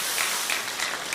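A church congregation gives the worship team a short burst of dense, steady applause, heard alone with no voices.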